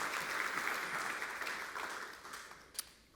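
Church congregation applauding with hand claps, a steady wash of clapping that gradually fades out, with one sharper clap near the end.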